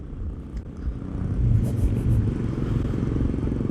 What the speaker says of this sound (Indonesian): Masa motor baru apa namanya udah ada suara-suara sih di bagian CVT.